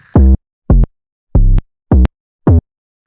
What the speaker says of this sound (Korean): 808 베이스도 마찬가지로 이 세럼에서 쓴 808 베이스인데